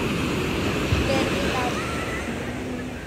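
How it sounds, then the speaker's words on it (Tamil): Ocean surf rolls onto a beach in a steady, loud wash of broadband noise with wind buffeting the microphone; voices are faintly present beneath the roar. "ஒரு பெரிய அலை வா"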